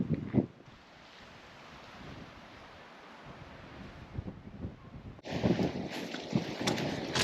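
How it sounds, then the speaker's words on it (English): Strong blustery wind buffets the microphone on Holy Island near a chapel, a steady roar with louder gusts and rumbling bursts toward the end; no one speaks. "We are currently sheltering near the chapel, just from the wind, because it is very, very blustery over here."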